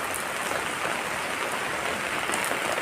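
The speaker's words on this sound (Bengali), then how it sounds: "তো ভালোই বৃষ্টি হচ্ছে, দেখতে পাচ্ছ, ভালোই বৃষ্টি হচ্ছে" Heavy morning rain pours down in a dense, even hiss close by, steady and unbroken with no talking.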